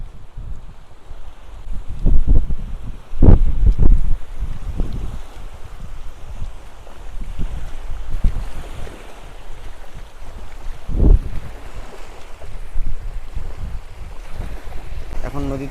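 Choppy river waves slap around a small fishing boat in the Sundarbans while strong wind buffets the microphone, producing a loud, continuous rumbling roar with a few heavier gusts and splashes.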